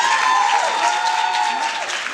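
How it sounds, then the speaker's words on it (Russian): Audience applause at a Zumba festival night in a Daugavpils club, dense and steady throughout under a sustained musical tone, with a voice faintly present in the mix. "под ваши бурные аплодисменты"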